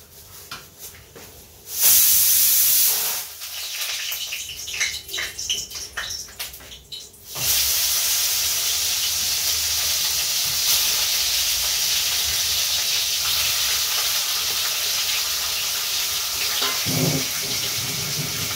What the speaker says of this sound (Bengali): এখন পেছন ফিরলেই হুহু করে জল পড়ছে